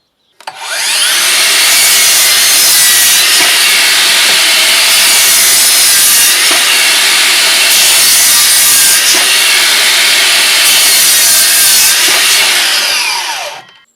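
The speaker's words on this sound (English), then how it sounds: "two 5 amp hour batteries on the miter saw, cutting 10x2 treated timber" Cordless miter saw running on two 5 amp hour batteries, cutting through 10x2 treated timber: a loud, close, continuous high-pitched whine and rasp with several surges as the blade bites, no talking.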